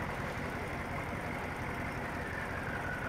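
A steady, low tractor engine idle from the video game Farming Simulator 17 rumbles continuously with a faint mechanical knock, even and unchanging throughout, with no voices.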